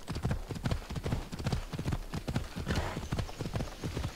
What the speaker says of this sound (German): Das Pferd beschleunigt selber.